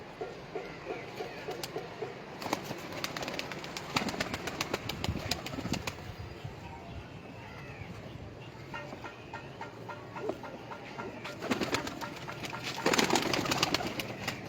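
Pigeons kept for sale give soft, scattered coos alongside occasional wing flaps and other bird sounds, fairly near and moderately loud against a busy background.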